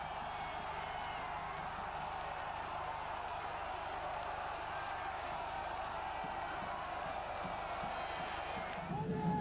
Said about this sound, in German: Der Jubel über das Tor beinahe grenzenlos.